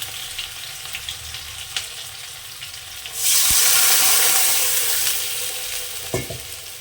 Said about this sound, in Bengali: আলুটা আমার কষা হয়ে গেছে আমি এবার এখানে জল দিয়ে দেবো